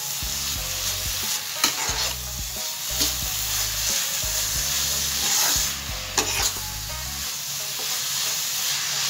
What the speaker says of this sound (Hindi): इसमें लास्ट में 2 चम्मच हमने घी डाल दिया है और उसको इस तरह से मिला देंगे